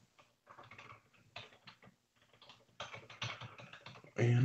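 Rapid keystrokes on a computer keyboard come in irregular bursts with short pauses, close and clear, ending in a louder thump.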